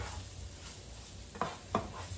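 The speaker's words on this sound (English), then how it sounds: "we'll just give it a quick stir" Linguine clam sauce gets a quick stir in a pan: two short spoon scrapes land close together over a soft, steady sizzle, fairly quiet overall.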